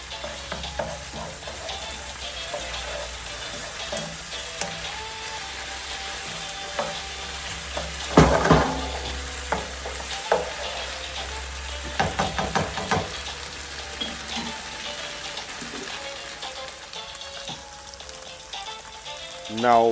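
Ginger garlic paste fries in a pan for a pink perch fish curry, giving a steady close sizzle with bursts of stirring scrapes and spatters throughout.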